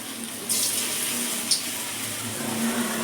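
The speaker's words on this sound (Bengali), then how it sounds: "তেলের মধ্যে একটা একটা করে ছেড়ে দিলাম।" Cauliflower pakoras slipping one at a time into hot frying oil, giving a steady broadband hiss with a sharper splash near the start and another brief burst partway through, close and fairly loud.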